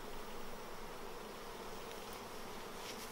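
Honey bees buzz steadily at an open hive during a hive inspection, a dense, continuous hum that stays close and even throughout with no talking.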